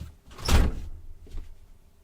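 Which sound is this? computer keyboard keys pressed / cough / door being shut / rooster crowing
door being shut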